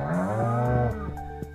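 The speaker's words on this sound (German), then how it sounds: "Du kleine verrückte Kuh." A single drawn-out cow moo in Stardew Valley, loud and close, with a deep rising then falling tone, followed by a few soft clicks.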